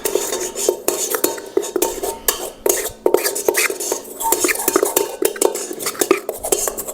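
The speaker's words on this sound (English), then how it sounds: "So I'm just going to give this a little mix." Chocolate cake batter with cocoa powder being mixed in a bowl, a utensil clinking and scraping steadily against the sides in quick, continuous strokes, close and fairly loud with no voices.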